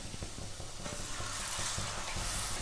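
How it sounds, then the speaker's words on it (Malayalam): Second coconut milk poured into a pan of frying chilli masala for a Kerala-style meatball curry gives a steady sizzle and bubbling, with soft stirring scrapes recurring throughout. "ഇനി നമുക്ക് രണ്ടാം പാൽ ഇതിലേക്ക് ഒഴിച്ചു കൊടുക്കാം"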